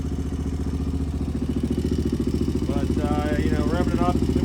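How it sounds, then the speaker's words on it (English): A 1986 Honda XR628R with dual carburetors idles in a steady, rhythmic thump with irregular pops, close and loud throughout, with a voice speaking over it toward the end. "Lots of popping. It'll idle fine."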